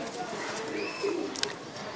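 A prized pigeon coos softly in a low, rolling murmur against steady background noise, with a brief sharp click partway through.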